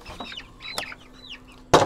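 Jersey Giant chickens cluck softly in a run in short, scattered calls, with a louder, sharper burst near the end.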